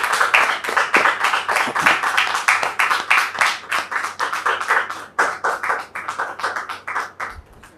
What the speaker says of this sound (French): On peut recevoir M. Topé Clément sous vos applaudissements.